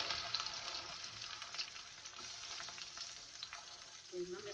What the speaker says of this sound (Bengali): এগুলো এখন ভেজে নেব